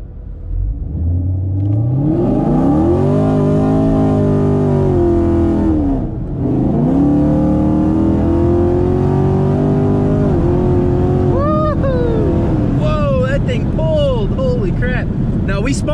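A 2019 Camaro SS with a 10-speed transmission and drag radials roars through a loud wide-open-throttle pull, engine pitch climbing steadily through several upshifts, with cabin noise and some voices underneath.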